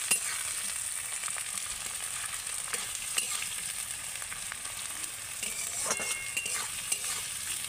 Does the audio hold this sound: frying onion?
yes